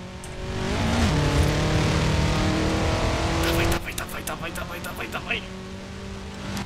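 A Ford Focus racing in Forza Horizon 4 with a slipping, burnt clutch: a loud engine holds a steady, rising drone, then drops off and revs in uneven bursts, with someone talking over it.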